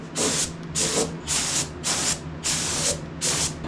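Aerosol undercoating sprayed onto the underside of a Datsun 280Z near the shock tower, in six steady hissing bursts of about half a second each, separated by short pauses, close and loud.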